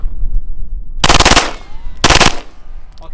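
Two long bursts of full-auto gunfire fired at long range, each a dense rapid rattle lasting about half a second, loud and sharp against quiet outdoor air.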